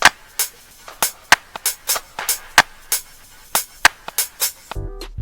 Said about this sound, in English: I took the diamond needle topper, which sounds like this